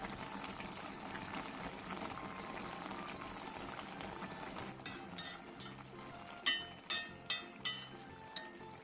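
Broth bubbling and boiling steadily around tofu in a pot, a continuous low simmer, with a few sharp clinks and taps of a utensil or lid near the end.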